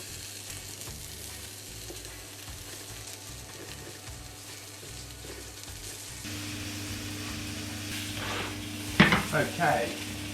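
Vegan burger patties fry in a pan with a steady low sizzle, growing louder as they are flipped, followed by a few scraping clatters of a utensil against the pan near the end.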